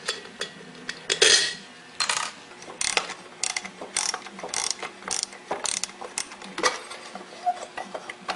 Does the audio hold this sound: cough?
no